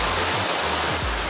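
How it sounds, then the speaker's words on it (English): Waterfall plunging off a cliff into the ocean on the Newfoundland coast along the East Coast Trail near Pouch Cove, a steady loud broadband roar of rushing water with low wind rumble underneath. "Right here is where the falls drop off into the ocean."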